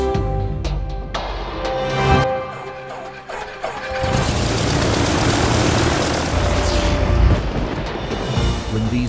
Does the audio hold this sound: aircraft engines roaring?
yes